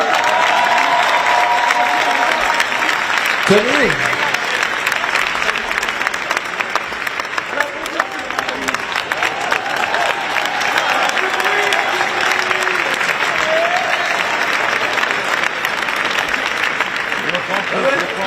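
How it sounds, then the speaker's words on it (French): A crowd at a Paris 2024 Olympics countdown event applauds loudly and continuously for a sports demonstration. An announcer talks over the clapping. "On l'applaudit bien fort, s'il vous plaît."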